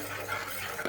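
Mango pieces and jaggery being stirred in a pan for a mango-eggplant dish, a soft steady scraping and faint sizzle, close and quiet, ending with a brief utensil knock.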